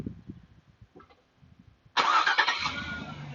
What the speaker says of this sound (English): you hear the engine starts up